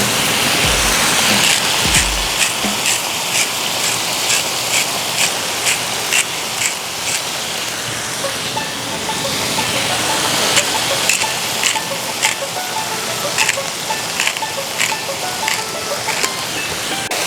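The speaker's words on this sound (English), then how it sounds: "listen to that sizzle" Skirt steak sizzles loudly and steadily on a Blackstone flat-top griddle, with a dense, continuous frying hiss and scattered crackles and pops throughout, heard up close with no talking.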